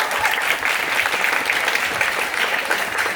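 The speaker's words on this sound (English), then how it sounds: "She's going to be giving us a round of applause." Dense, continuous applause fills the hall from a crowd of parents and guests at a middle school jazz concert, loud and evenly sustained throughout.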